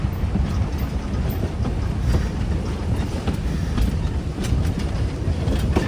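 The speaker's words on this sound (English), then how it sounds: "we are running on what is considered to be narrow gauge rails" Narrow gauge logging train on 36-inch track at Yosemite Mountain Sugar Pine Rail Road, a loud steady rumble of running gear on rails with faint clicks, heard from on board and mixed with wind noise.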